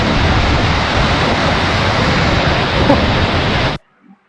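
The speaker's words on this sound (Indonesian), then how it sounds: "Kuatnya angin di sana. Air terjun." A waterfall in Lombok, Indonesia roars close by as a dense, steady rush of falling water, loud and unbroken, with wind buffeting, before cutting off abruptly near the end.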